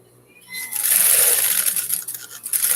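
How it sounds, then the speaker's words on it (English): A sewing machine runs steadily while stitching a tulle mermaid ruffle skirt, a fast whirring hum that starts after a brief pause and carries on close and loud to the end, with no talk. "I'm going to sew over the other thread that's there so that we don't have an issue going further"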